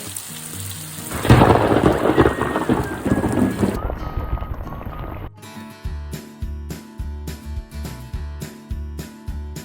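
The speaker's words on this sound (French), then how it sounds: "Ça faisait un moment qu'on n'avait pas eu la vraie pluie, mais celle-là, c'est la vraie pluie." Heavy rain pours down in the Balkans with a deep, rolling thunder rumble, then gives way to rhythmic music.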